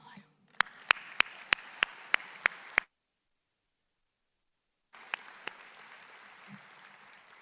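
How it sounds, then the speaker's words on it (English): Steady rhythmic clapping over a murmuring crowd at a county State of the County address, abruptly cut to silence, then a few more claps return amid background noise. "And that is a reason to applaud."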